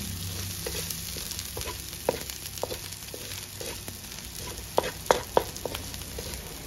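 Washed alamang shrimp paste sautéing in a pan for Bicol Express, a close steady sizzle with scattered spoon scrapes and a few louder clatters near the end.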